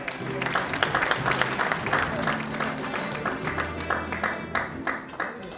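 Sustained applause from a roomful of people at an inauguration ceremony, a dense patter of clapping that holds steady throughout with some crowd murmur underneath.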